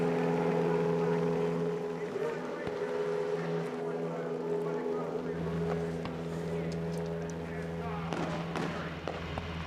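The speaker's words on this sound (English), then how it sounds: "Drivers, start your engines." Race car engines start and drone steadily in a loud, continuous tonal hum at the Road America Grand Prix in 2006, with a commentator talking over them.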